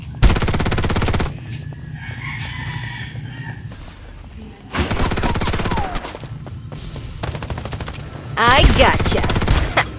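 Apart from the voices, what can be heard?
gunfire in the video game Farlight 84 mobile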